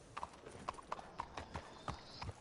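Horse hooves clip-clopping in the video game Red Dead Online, a quiet, uneven run of distinct hoofbeats at moderate distance with faint ambience around them.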